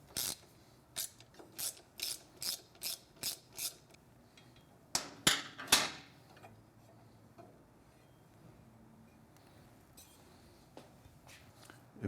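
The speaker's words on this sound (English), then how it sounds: "if you have a short enough bit, you can use a ratchet" Ratchet on the chain guard bolts of a Triumph Street Twin motorcycle: a run of about seven quick, evenly spaced clicks, then a few louder clattering clicks and scattered faint ticks, close but quiet, with no talking.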